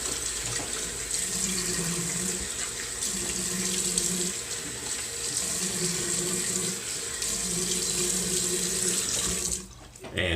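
Cold water running steadily from a tap into a bathroom sink, a continuous hiss and splash that holds for about ten seconds before cutting off near the end.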